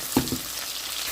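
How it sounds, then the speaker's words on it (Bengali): Whole garam masala with onion and garlic frying in hot oil, a brief burst of sizzle at the start that settles into a steady, soft frying hiss. "এখানে আমি গোটা গরম মশলা, তারপর পেঁয়াজ আর রসুন দিয়ে একটু ভেজে নিচ্ছি।"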